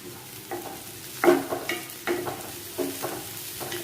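Small shallots frying with mustard seeds in oil for a ladies finger upperi, several distinct bursts of sizzle and scraping stirs a second or so apart, close and fairly loud, no voices.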